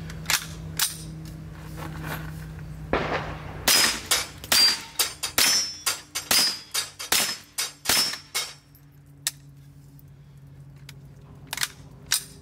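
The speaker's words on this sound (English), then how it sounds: "bolt release locking." Bolt release of an AR Catch 22 .22 rifle: a burst of sharp metallic clicks and clacks, close and crisp, with a few isolated snaps before and after.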